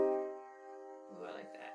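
A minor chord rings out on a sustained, harmonic-rich instrument and fades, then a voice starts talking over its tail end.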